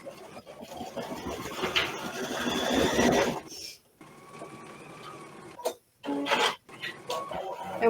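An embroidery machine sews an applique placement stitch, giving a busy mechanical rattle and hum at close range that breaks off into short gaps and quick bursts toward the end.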